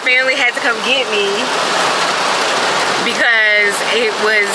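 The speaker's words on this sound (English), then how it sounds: "It's raining so bad." Heavy rain pouring down at an outdoor African American cultural festival, a dense, steady hiss filling the scene while a person talks over it.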